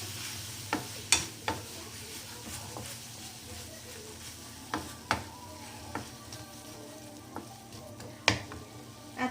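Okra fries with onion, garam masala and coriander powder in a pan, giving a steady low sizzle. Scattered sharp clinks of a spatula stirring punctuate it, close up and without talk.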